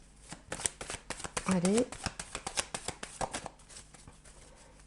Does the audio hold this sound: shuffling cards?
yes